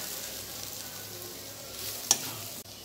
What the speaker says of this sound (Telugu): చూసారు కదా, ఆనియన్స్ అయితే బాగా వేగిపోయినాయి